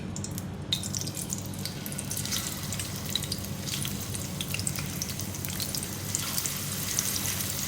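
Sliced onion frying in ghee for dal tadka gives a continuous low crackling sizzle with faint drip-like ticks, even and close throughout, no voices.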